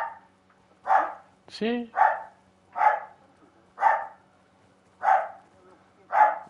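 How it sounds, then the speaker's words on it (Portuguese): A dog barks about seven times at a steady pace in the co-op shooter Ghost Recon Wildlands, distinct and fairly close over a quiet low hum, with a brief voice breaking in early. "Cala lá o cão"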